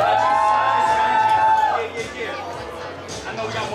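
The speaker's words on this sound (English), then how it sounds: "Let's clap it up for everybody that did this." An audience at a fashion show cheers and whoops, with crowd chatter throughout and a voice rising over the noise before it settles into lower hubbub.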